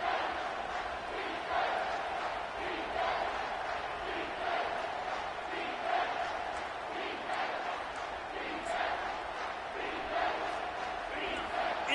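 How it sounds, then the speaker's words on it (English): Stadium crowd at an American football game roaring on a third-down play, a steady, dense wall of cheering and yelling that swells in waves, with no clear single voice standing out. "this crowd is bringing down the house"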